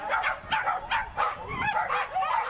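Dogs in the starting gate at a dog race at Canterbury Park bark, yip and whine excitedly in quick overlapping bursts, loud and close.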